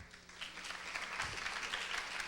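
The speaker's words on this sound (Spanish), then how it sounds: "Démosle un fuerte aplauso a Carlos Rodríguez" Audience applause for a speaker at a marketing conference, a soft, moderately distant wash of clapping that holds evenly for a couple of seconds.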